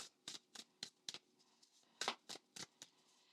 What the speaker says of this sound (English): let's go ahead and see how it shuffles though.